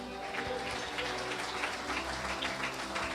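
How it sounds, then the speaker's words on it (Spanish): Congregation applauding during a church sermon, a continuous blur of clapping hands under a low, steady hum, fairly loud and even with no clear speech. "Dale un aplauso al Señor."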